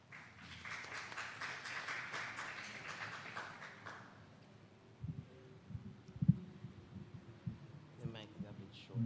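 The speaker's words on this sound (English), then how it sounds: "Please clap." An audience at a youth mayors' forum claps for the youth mayor of Falmouth, a quiet, rather distant patter of applause that fades after about four seconds, then gives way to faint room noise and handling bumps.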